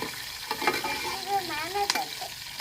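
Green chillies fry in a pan for chutney, giving a close, continuous sizzle broken by stirring scrapes and one sharp clink; faint voices are audible in the background.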